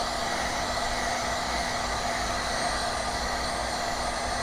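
Hot air gun blowing steadily on a cracked Redmi 10 phone screen to soften its adhesive, a constant loud whooshing hiss with a faint steady hum underneath and no talking.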